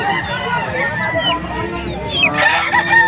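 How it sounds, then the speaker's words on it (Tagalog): Bantam chickens and chicks at a poultry market cluck and crow loudly up close, with chick peeps mixed into the busy flock noise while people talk nearby. "Mga sisiw."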